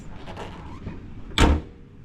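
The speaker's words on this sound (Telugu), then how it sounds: "బ్యాక్ డిక్కీ డోర్ కూడా ఓపెన్ చేసి చూపించేస్తాను" A Maruti Swift Dzire boot door opens with a single loud, close thunk after a moment of quiet handling noise, then settles into near silence.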